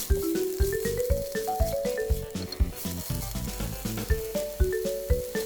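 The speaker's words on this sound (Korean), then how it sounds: "마늘 향이 올라오면 홍고추를 넣고 20초만 볶아주세요." Minced garlic and red chili stir-fried in a pan over medium-low heat produce a gentle sizzle, broken by repeated close spatula scrapes and taps in an uneven rhythm.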